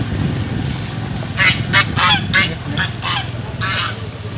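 Domestic geese honking nearby in a rural yard, a burst of about eight loud nasal honks in quick irregular succession over a low background rumble.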